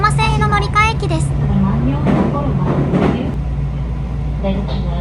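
A JR Yamatoji Rapid train pulls into Oji station, its steady low rumble and hum filling the clip with a brief tonal chime at the start and a voice heard faintly over the running noise.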